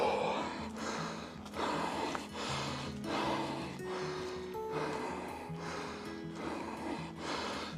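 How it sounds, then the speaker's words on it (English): Heavy, rhythmic breathing close to the microphone, a series of deep breaths repeating roughly every second, with faint background sounds. "Sorry for my extremely heavy breathing."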